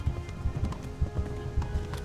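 A horse gallops in the medieval video game Kingdom Come Deliverance, with steady, rhythmic low hoofbeats thudding close by throughout.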